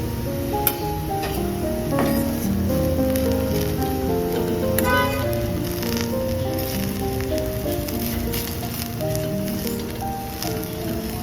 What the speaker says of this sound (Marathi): मसाला घालून लगेचच फटाफट तळून घेते